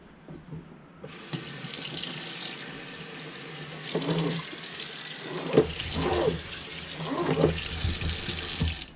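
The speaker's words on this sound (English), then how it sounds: "Kitchen faucet." A Moen Arbor kitchen faucet is turned on and runs with a steady hiss of water into the sink, continuing for several seconds, with faint muffled movement and clatter in the background.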